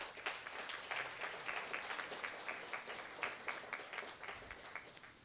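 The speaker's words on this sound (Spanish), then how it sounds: "Un fuerte aplauso, por favor." Faint, moderate applause from a forum audience in Guatemala, a steady patter of many hands clapping at a distance with no voices over it.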